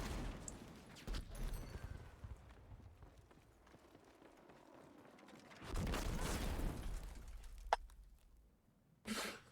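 In Battlefield 6, a grenade blast lands as a heavy, booming burst in the middle of the stretch. Scattered gunfire cracks before and after it against a quieter battlefield background, with a few sharp isolated shots.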